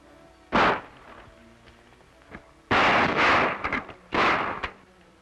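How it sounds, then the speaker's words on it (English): Gunshots from a 1936 film scene: one sharp blast followed by a longer rolling volley fired into the air, then another loud burst, heavy and booming with short quiet gaps between. "you fellas fire a volley in the air."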